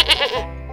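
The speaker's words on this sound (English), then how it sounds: "Does a goat say meh? Yeah, it does." A goat gives a single short, wavering bleat on a farm, close and clear, fading into a faint tail.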